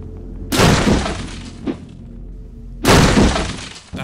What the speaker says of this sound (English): I knew my love of smashing crates would come in handy.